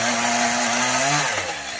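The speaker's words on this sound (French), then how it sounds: "Et il tronçonne." A chainsaw roars steadily at close range, its engine pitch shifting as it cuts into wood, loud and continuous.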